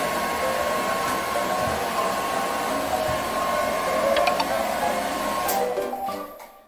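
A hair dryer on low heat blows with a steady whooshing roar while drying a cat after a bath, close and loud, then switches off and winds down near the end.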